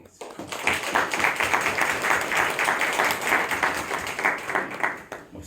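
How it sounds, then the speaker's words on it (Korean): A church congregation claps in celebration for a retiring couple, dense sustained applause with a loose rhythmic pulse that swells quickly and stays loud throughout. "두 분께 우리 다시 우리 축하의 박수 한번 드리겠습니다."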